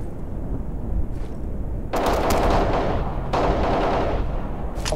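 Two bursts of automatic AK rifle fire in a video game ring out loud and close, each lasting about a second, over a steady background of game noise.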